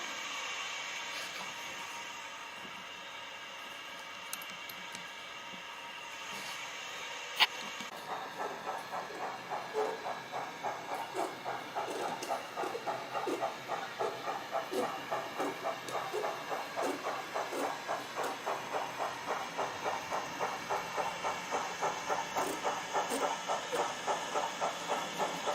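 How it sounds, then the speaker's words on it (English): A freight train hauled by locomotive 4203 creeps cautiously down the steep 1-in-42 incline to Howden Clough Colliery, with a quiet start giving way to a steady rhythmic clatter of wagon wheels over rail joints and a constant hiss. "train descends cautiously down the steep incline to Howdenclough Colliery"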